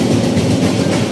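A light rail (LRT) train rumbles at Central station in the Philippines, a loud, continuous low roar with rail clatter and no voices over it.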